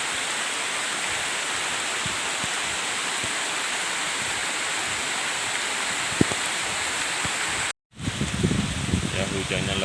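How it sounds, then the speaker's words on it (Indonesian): Heavy rain pours steadily in a village, heard from shelter under a large tree, a dense continuous hiss that cuts out briefly near the end and resumes with muffled sounds. "Ya, hujannya lebat sekali nih."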